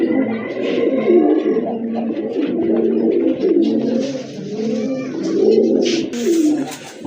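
Pigeons coo in repeated soft, throaty phrases, close and continuous, with brief flutters and light rustles between calls.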